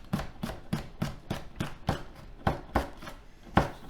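A knife chops Thai chili peppers on a cutting board in about ten crisp, evenly spaced strokes, close and alone.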